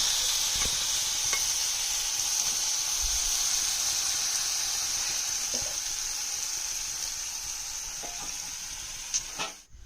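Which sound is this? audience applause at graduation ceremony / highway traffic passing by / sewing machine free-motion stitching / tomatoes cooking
tomatoes cooking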